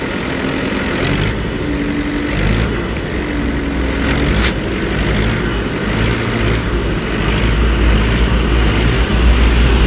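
A TAFE Gajraj tractor with a gear-slipping fault runs close by with the gear engaged, a loud, steady low engine drone throughout with faint irregular clunks over it.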